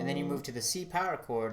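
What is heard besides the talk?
No distinct noise like a dog, phone or traffic.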